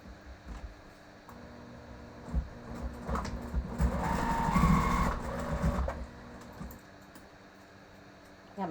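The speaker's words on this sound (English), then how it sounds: "So we're going to go back to the sewing machine and just sew on this tab." A sewing machine stitches a tab onto a zipper, building to a fast, steady mechanical whirring for a couple of seconds before slowing and stopping, fairly quiet overall.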